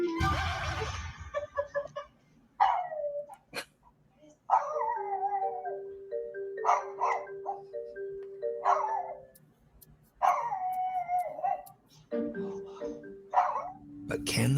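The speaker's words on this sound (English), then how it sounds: "a woman introduces her new doll to her cute little pug named Augie." A small pug howls in a home, a series of wavering, drawn-out cries rising and falling in repeated bursts over several seconds, close and fairly loud, with short pauses between howls.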